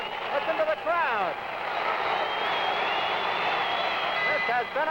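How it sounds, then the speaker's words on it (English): A boxing crowd roars at Madison Square Garden in the closing seconds of a fight, a sustained swell with whistles cutting through, beneath steady commentator talk. "Listen to the crowd."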